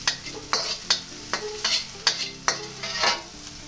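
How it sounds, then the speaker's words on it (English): Garlic and shallot frying in a pan for American fried rice, with steady sizzling under a regular series of sharp spatula scrapes and tosses, close up and with no talking. "We're gonna first toss in the garlic and shallot. Just cook it up until it's nice and fragrant."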